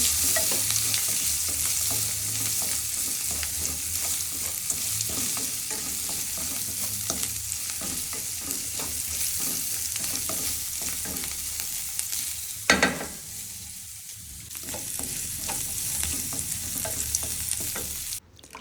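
Rava upma with onion and freshly added coriander leaves is stirred in a pan: a steady, close scraping and soft sizzle runs throughout, with one louder clank of the spoon about two-thirds of the way through.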